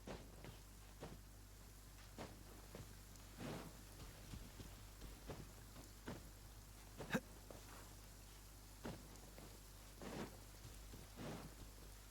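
Rain falls in the video game Genshin Impact, a soft, steady hiss with scattered droplet ticks and occasional sharper taps over a low ambient hum, quiet and with no voices.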